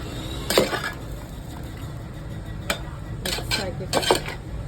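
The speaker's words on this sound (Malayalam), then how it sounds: "നന്നായി മിക്സ് ആക്കുക." A ladle stirs avial with added curd in a metal cooking pot, scraping and clinking against the sides in scattered bursts with quieter pauses between.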